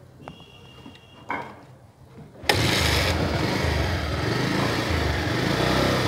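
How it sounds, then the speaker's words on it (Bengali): Motorcycle with about 21,000 km on it and a weak battery: a couple of cranking attempts, then the engine catches abruptly and settles into a loud, steady, close idle that runs to the end. "এই বাইকটির সাউন্ড কন্ডিশনটা আপনাদেরকে শোনানোর চেষ্টা করতেছি"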